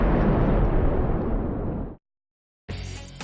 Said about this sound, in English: Living historians demonstrated some of the weapons that were used at the battle, like the firing of this 6-pound cannon.